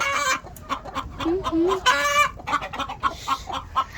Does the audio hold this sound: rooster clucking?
yes